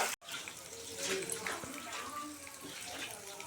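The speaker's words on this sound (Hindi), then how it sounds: "मैं बर्तन मान रही हूँ" Running tap water splashes steadily over dishes being washed, a continuous close hiss with faint clinks, after a brief break at the start.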